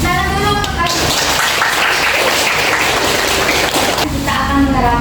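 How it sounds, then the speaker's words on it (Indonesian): A classroom of students claps together for about three seconds, a dense burst of applause sitting between a teacher's speech before and after it. "Tepuk tangan dulu."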